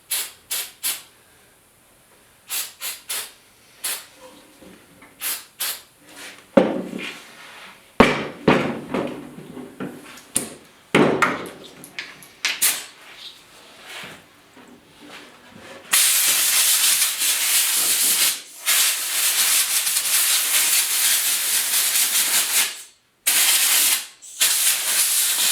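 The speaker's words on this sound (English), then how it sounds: "Now I've just got some carb cleaner here." Carb cleaner aerosol sprays onto a steering wheel during a 1956 Mercury pickup restoration, starting as short hissing bursts with knocks and taps, then a loud continuous spray hiss broken by two brief pauses.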